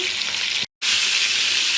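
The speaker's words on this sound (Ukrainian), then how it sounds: "Що мені подобається, що воно так дуже швидко смажиться." Close, loud sizzling of meat frying in a hot pan, a steady crackling hiss broken by a brief moment of silence.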